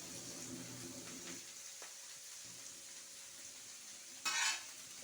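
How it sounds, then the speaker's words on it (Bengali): Capsicum, beans, onion and green chilli for chowmein frying and being stirred in a pan, a soft steady sizzle with faint scraping and one brief louder hiss near the end. "প্রথমে হচ্ছে ক্যাপসিকাম, বিন, পেঁয়াজ, কাঁচা লঙ্কা দিয়ে ভাজা হচ্ছে"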